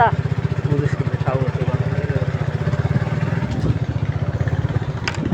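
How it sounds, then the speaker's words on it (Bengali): A motorcycle draws near on a road, its steady, throbbing mid-pitched engine note running continuously and fairly loud, with people talking over it. "মোটরসাইকেল আসতেছে"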